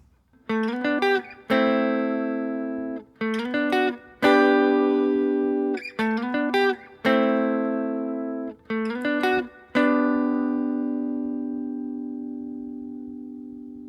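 An electric guitar plays a riff of plucked notes and strummed chords that ring out, ending on a long, sustained chord that slowly fades.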